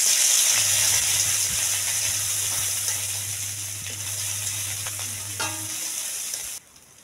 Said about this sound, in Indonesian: Kita oseng untuk bumbu.